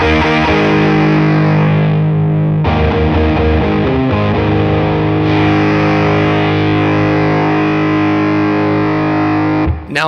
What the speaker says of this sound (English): So I'll adjust the treble control and you can hear what that does.